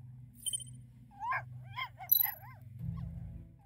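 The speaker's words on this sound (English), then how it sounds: "Why are you barking?" Several short yelps and whimpering barks from a dog, fairly close, in a quick irregular burst followed by a low rumbling hum, with no talking.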